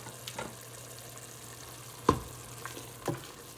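Spices such as paprika, salt and crushed red chilies cook in a pan over medium heat, giving a soft steady sizzle with a few brief scrapes or clinks of stirring.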